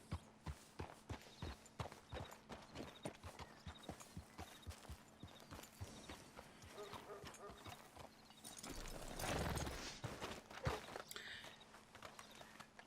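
Horse hooves clip-clop in a steady walking rhythm in the Red Dead Redemption 2 video game, clear and fairly close, pausing near the end amid a burst of other game noise, with voices talking over parts.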